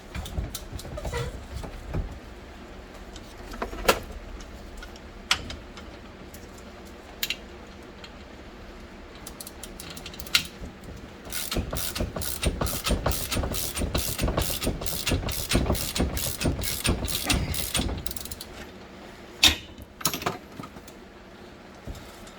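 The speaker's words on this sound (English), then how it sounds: "now I'm going to finish compressing the spring so that I can cut that bushing out and put the cap back on" A spring compressor is cranked down on a Yamaha Rhino 660 coil spring during a lift install, making close ratcheting clicks and metallic clanks, with a fast run of evenly spaced ratchet strokes in the middle.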